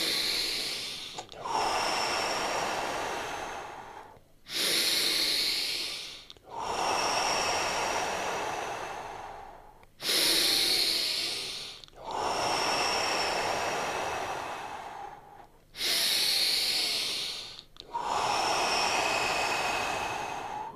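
A person takes slow, deep breaths during a morning breathing exercise: about seven long, loud, close airy inhales and exhales, each separated by a brief pause, with no talking.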